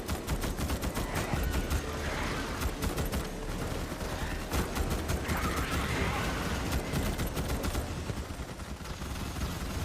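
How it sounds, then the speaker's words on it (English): Rapid gunfire from a video game as a player shoots at swarming bugs, a dense, continuous rattle of shots running loud and close throughout with faint voices underneath. "I'm just gonna shoot at the bugs walking in this direction"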